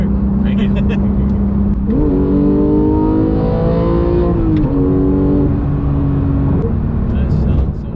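A Porsche 991.2 GT3 with a manual gearbox revs loudly from inside the cabin while driving, its engine note climbing, holding, then dropping in pitch through the shifts, with brief voices faintly in the background.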